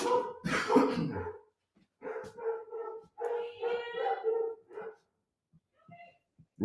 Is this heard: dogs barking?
yes